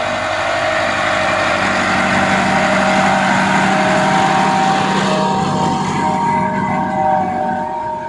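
A Massey Ferguson MF385 tractor works through a muddy rice field, its engine droning steadily and close throughout with a constant low hum and no voices.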